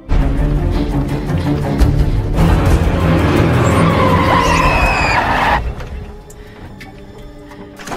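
A mail truck skids with loud, sustained tire screeching for about five seconds, then the noise drops away to a quieter rumble.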